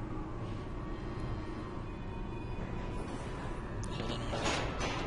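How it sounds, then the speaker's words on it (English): A door slides open with a mechanical whoosh in the game Black Mesa Source, over a constant droning ambient hum. A burst of hissing noise rises near the end. No one speaks. "Open door."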